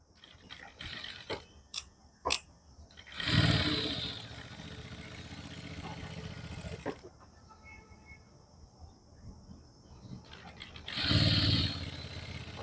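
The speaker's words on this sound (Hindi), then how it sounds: "ऐसे आपको सिलाई कर देनी है।" A sewing machine stitches the fitting seam of a suit, starting from the hip, in two short whirring bursts with mechanical clicking and quiet fabric handling between them.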